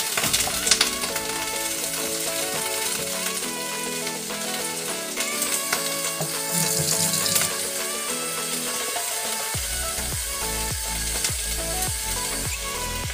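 Red Malabar spinach (alugbati) sautéing with ginger in a pan, a steady sizzle and fry with clinks and stirring scrapes, turning louder and denser near the end as the greens hit the hot oil.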